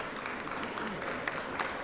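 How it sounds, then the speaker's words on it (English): Applause in a state legislative chamber during a session, a soft, distant-sounding patter of many hands that holds steady for a couple of seconds. "Let's give our former colleagues and Senator Vincent Ford a round of applause."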